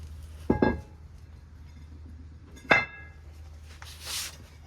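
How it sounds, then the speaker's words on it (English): A brake rotor comes off the front hub of a 2019 Subaru Forester, giving two separate metallic clanks with a brief ringing tail, spaced about two seconds apart, over a steady low hum and a soft hiss near the end. "And then the rotor should also come off."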